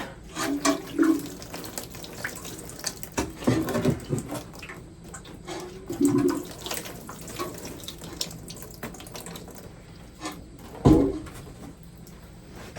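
Tap water runs steadily into a sink while hands are rinsed, with occasional louder splashes and clunks nearby. The sound is close and fairly quiet, with no talking.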